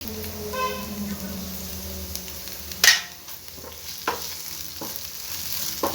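Okra and onion stir-fry in a pan, sizzling steadily with a sharp clatter of the spatula partway through and softer scraping stirs after, close and fairly quiet.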